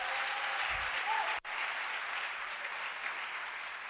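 A church congregation claps together in sustained, dense applause that holds steady at a fairly strong level for the whole stretch, with a brief cut partway through and no voices rising above it.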